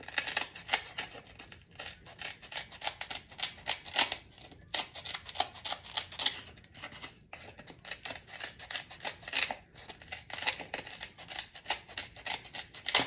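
Scissors snip repeatedly in quick bursts of crisp clicks while trimming material for a graduation money bouquet, close and clear with brief pauses between runs.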